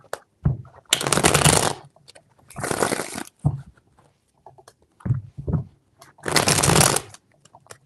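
A deck of tarot cards is shuffled in three separate riffling bursts, each a crisp, close, fluttering rush about a second long, with short quiet gaps and faint handling sounds between them.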